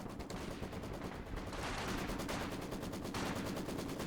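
Rapid machine gun bursts mixed with other gunfire and explosions in a Company of Heroes 2 battle on a bridge map, loud and sustained throughout with dense repeated cracks and no talk.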